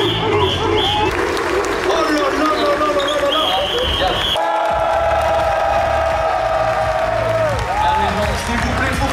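A hall audience in Paris applauds and cheers loudly for a Korean Tekken player, a steady dense roar of clapping and shouting that fills the whole stretch, with an amplified voice carrying over it.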